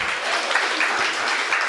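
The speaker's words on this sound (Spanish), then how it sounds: "Un aplauso al Señor" Congregation applauding in a church service, a steady dense wash of clapping hands from many people, fairly close and continuous, with no talk over it.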